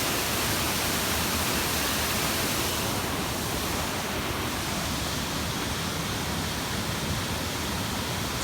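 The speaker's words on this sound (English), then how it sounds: "Cray Creek is one really beautiful waterfall here." A dense, unbroken roar of Cray Creek waterfall near Feather Falls, California, falling into a pool, steady and even from start to finish.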